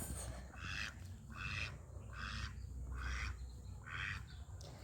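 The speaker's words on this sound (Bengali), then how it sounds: "এই দেখো আমাদের হাঁস" Ducks at a rural home quack in a run of about six evenly spaced, nasal calls, fairly close and clear over faint background noise.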